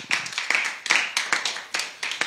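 A church congregation applauds for Jesus during a sermon, with uneven bursts of hand clapping that swell and fade in quick succession, close and lively.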